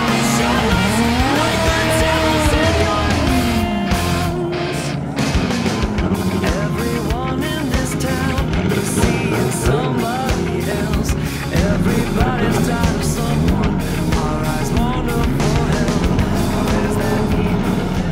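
Import cars drag racing in the front-wheel-drive class at a Montgomery event, with loud, continuous engine roar and rising and falling revs throughout, tire noise mixed in, and no clear talk.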